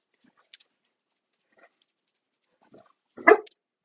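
A single sharp dog bark near the end, preceded by a few faint scattered noises in an otherwise quiet setting.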